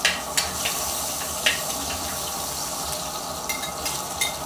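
Onion frying in hot oil with already browned garlic, a steady close sizzle with a few sharp crackles and pops throughout.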